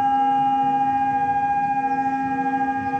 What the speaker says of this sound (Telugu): ఎందుకు ఈ సైరన్ మోగుతా ఉందని చెప్పేసి.